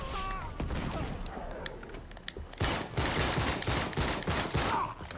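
Rapid blind-fire gunfire bursts in the video game Uncharted 3, a dense fusillade of sharp cracks and overlapping shots that runs loud and steady throughout, with heavy battle noise underneath.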